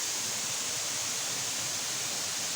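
Steady broadband rush of a spring-fed waterfall at a resort in San Pablo, Laguna, water running continuously and loudly with no pauses or voices.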